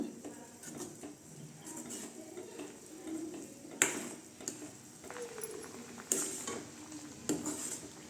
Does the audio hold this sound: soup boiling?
yes